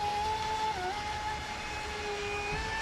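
A ProBoat Impulse 32 RC boat running under throttle, its electric motor giving a steady high-pitched whine that dips briefly in pitch, heard continuously at moderate distance.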